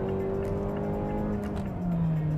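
A Mazda 6 sedan with a 2.0 petrol engine and six-speed torque converter automatic accelerates to merge into traffic, a smooth, moderately quiet engine note rising steadily in pitch, heard from inside the car.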